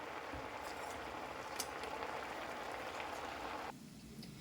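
A broad splashing rush of water and boiled pasta pouring through a strainer runs steadily for several seconds, then cuts off, leaving a softer trickle.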